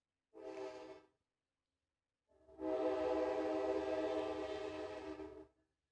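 A navy blue train sounds its horn: one short blast, then after a pause a long, loud, steady blare lasting a few seconds, close by with no talking.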